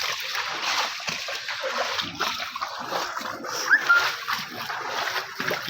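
Water splashing and sloshing as someone wades through a flooded street after heavy rain, with gutter debris washed out and water entering homes; continuous nearby splashes, and at one point a dog is faintly heard.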